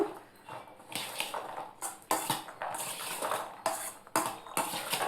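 Peas mixture being tossed with garam masala in a pan, utensil clinks and scrapes against metal in an irregular series of sharp knocks, close and fairly loud, no talking.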